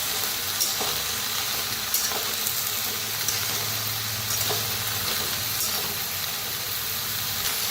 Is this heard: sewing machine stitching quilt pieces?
no